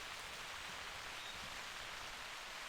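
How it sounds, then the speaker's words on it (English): Steady rain in the video game theHunter Classic hisses evenly, soft and continuous, with no other sounds or voices. "It's raining again."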